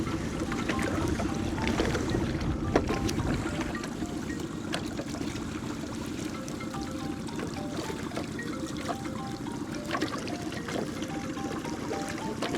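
Boat moving slowly across a choppy reservoir, with steady engine rumble and water splashing and sloshing against the hull throughout, and no voices.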